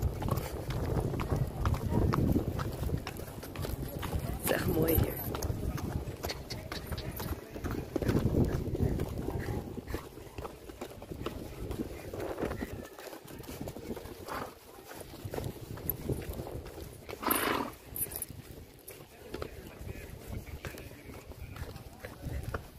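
Horse hooves clip-clopping at a steady walk around Petra, Jordan, a regular rhythm of close, crisp hoof strikes on hard ground, continuing alongside people talking.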